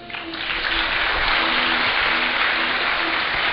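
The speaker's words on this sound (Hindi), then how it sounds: "अर्जुन भैया, बहुत सीधे हैं, भले हैं, अच्छे हैं, सज्जन हैं, ताली बजाइए।" Audience at a Bhagwat Katha religious discourse in Siliguri breaks into sustained, dense applause that swells quickly and holds steady, many hands clapping together in a large hall.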